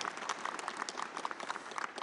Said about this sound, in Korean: 박근혜 대통령님께 저희가 박수로 좀 화답하면 어떨까요?